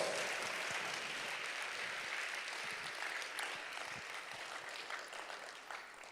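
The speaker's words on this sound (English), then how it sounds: "Can we give them a big round of applause?" A conference audience at an agri-business investment forum in Jamaica applauds a panel, a steady wash of many hands clapping at close range that holds evenly for several seconds and tapers slightly at the end.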